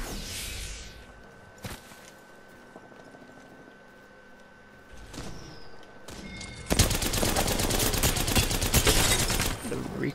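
Shooter game gunfire: scattered single shots and short bursts early, then a sustained loud automatic volley near the end with sharp cracks, while a voice talks faintly beneath.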